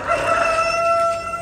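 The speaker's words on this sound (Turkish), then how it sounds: "Burada bir tane Light Brahma horozumuz var." A Light Brahma rooster at a poultry show crows in one long, strained call with bright harmonic tones, fairly close and standing alone.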